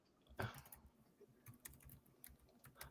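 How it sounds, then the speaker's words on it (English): Someone types on a computer keyboard in a quiet room, a faint, uneven patter of key clicks with one louder tap near the start. "what are you typing up?"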